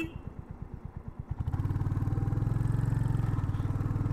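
Motorcycles of a group of bikers on a highway ride, a low engine thumping that builds at about 1.5 seconds into a loud, steady drone of several bikes running together.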